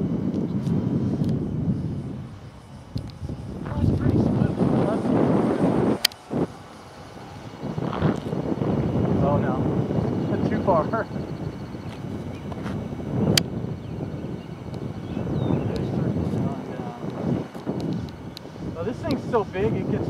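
A Hobbyking Rare Bear 1400mm RC model airplane flies with flaps down, its motor drone rising and fading as it passes at varying distance, with wind buffeting the microphone and a person talking over it.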